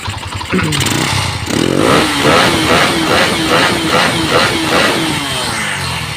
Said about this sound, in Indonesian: mesin sudah nyala, double starter tidak ada nyangkut-nyangkutnya sama sekali